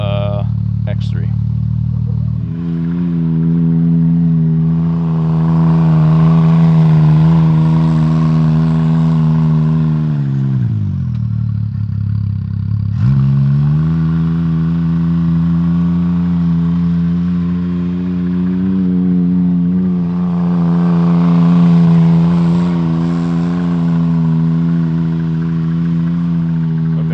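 A Can-Am X3 side-by-side engine hums steadily and loudly at close range with its wheels lifted off the ground, dipping briefly in pitch midway before rising again, while a person talks over it.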